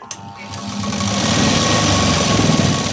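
A sewing machine stitches a sleeve seam, starting with a quick click and settling into a loud, steady, close mechanical whir with a fast chattering rhythm.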